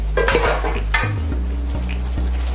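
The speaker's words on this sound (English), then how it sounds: "Now I'm going to add the onions to the gravy" Onions stirred into gravy in a pan, with a few scraping clinks of a utensil against the pan over a low steady hum and a faint sizzle, all close up.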